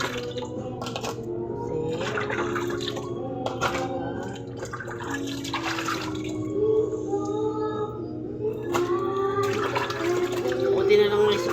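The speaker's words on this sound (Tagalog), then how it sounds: "Hugasan natin muna guys. Hugasan natin mabuti." Running tap water splashes steadily while food is rinsed and washed in a kitchen sink, a continuous broadband wash with faint drips, heard under conversational voices throughout.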